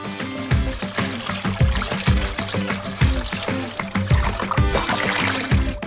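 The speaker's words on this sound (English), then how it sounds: "Add more water to cover all the meat." Water poured over pieces of ostrich meat sitting in a marinade, a steady trickling and splashing stream running continuously beneath a recurring low thumping rhythm.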